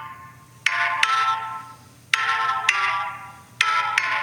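A song with a bright guitar riff plays through a phone's small speaker, thin and tinny, with repeating strummed chord hits every second or so and nobody talking over it.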